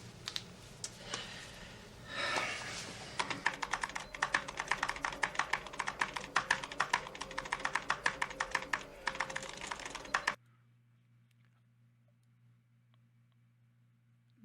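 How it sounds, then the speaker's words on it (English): Rapid clicking keystrokes on a computer keyboard run in dense bursts for about ten seconds, close and fairly crisp, then stop abruptly, leaving only a low hum. "Just use the keyboard."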